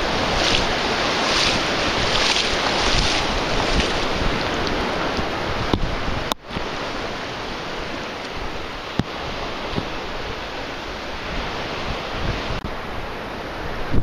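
Strong tidal ocean water rushes and churns along a shoreline during beach metal detecting, a loud, continuous broadband wash with wind buffeting the microphone and a few sharp handling knocks.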